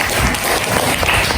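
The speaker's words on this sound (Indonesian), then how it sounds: "tepuk tangan untuk jawaban yang benar" A group in a classroom claps for a correct answer, giving a short burst of dense, steady applause with no pause.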